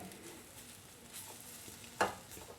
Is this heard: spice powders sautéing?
yes